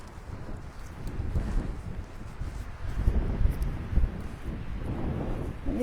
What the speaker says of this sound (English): I bet you can feel the wind in your hair just watching this.